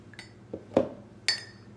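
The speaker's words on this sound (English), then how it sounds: "So we're going to just put a tablespoon here in the coffee first." A tablespoon clinks against a cup of coffee, giving three short, distinct clinks spaced apart, each ringing briefly before fading, with no talk over them.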